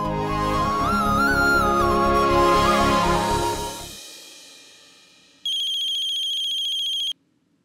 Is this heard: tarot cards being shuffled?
no